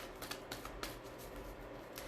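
Tarot cards are shuffled in a steady run of soft riffling and flicking, close up and continuous for a couple of seconds with no talking.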